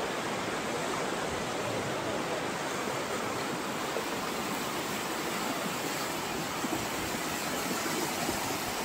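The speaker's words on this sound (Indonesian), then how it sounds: "Banjir besar. Aliran sungai Mbah Api. Aliran sungai sudah merangsek ke barat." Flooded river after heavy rain in Karangasem, Bali, a constant broadband rush of fast-moving water, loud and steady throughout with no pauses.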